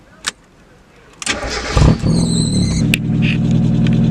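A lowered Mazda Miata cranks briefly then fires up, settling into a steady close idle rumble after a couple of faint clicks.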